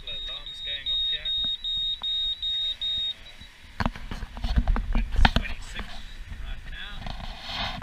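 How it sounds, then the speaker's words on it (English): Electronic alarms aboard a Lagoon 400 sailing catamaran crossing the Indian Ocean give a run of about seven evenly spaced, high-pitched beeps, followed by clunks, rustling and low voices nearby. "Alright, we've got a couple of alarms going off here."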